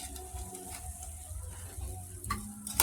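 Ripe banana and corn flour fritters fry in hot oil with a steady, faint sizzle and scattered small crackling ticks throughout.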